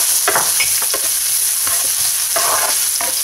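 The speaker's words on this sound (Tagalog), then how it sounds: "Talagang igigisa lang natin. So, palambutin muna natin yung onion." Onion sautés in a pan with an even sizzle, while a utensil scrapes and stirs in a string of short strokes close by.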